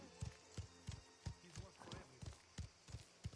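Horses gallop in a video game, with hooves clip-clopping in a steady rhythmic beat of quick, distinct thuds at low volume.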